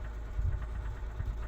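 A broken-down dump truck's engine rumbles low and steady, idling close by with a faint uneven vibration and no voices.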